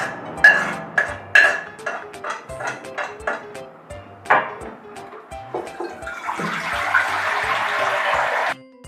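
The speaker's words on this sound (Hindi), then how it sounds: "अब नूडल्स को हम धो लेंगे।" Noodles for veg manchow soup are rinsed under running water, with irregular clinks and splashes at first, then a steady, fairly loud stream of water for a few seconds before it stops.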